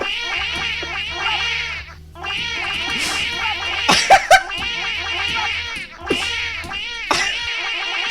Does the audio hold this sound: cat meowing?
yes